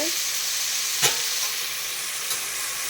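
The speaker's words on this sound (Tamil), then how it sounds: "இப்போ எல்லாமே நல்லா வதங்கட்டும்பா" Chopped vegetables with onion and tomato sauté in a pan for sambar rice, a steady close hiss and sizzle with a couple of faint stirring scrapes and no voices.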